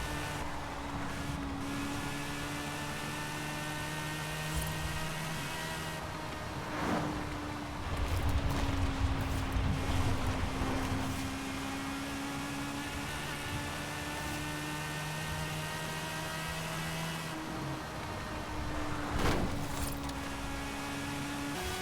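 A steady, high-pitched engine whine from a 2002 Mazda RX-7 Spirit R Type-A drifting in Forza Horizon 5, synthetic and game-like, holding a sustained shrill note over a low rumble, with brief swells.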